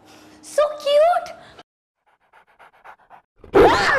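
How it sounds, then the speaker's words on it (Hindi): Dog panting in quick breathy bursts, loud and close at the end, with a voice speaking beforehand and faint rhythmic sounds in between. "भैया ये कुत्ता एक नंबर का कुत्ता है,"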